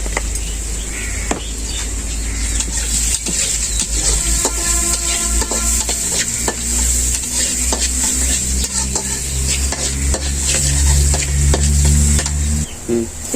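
Onions fry in a pan for tengra fish curry, a steady loud sizzle with a spoon or spatula stirring and scraping against the pan, plus occasional clinks of metal, and no talk.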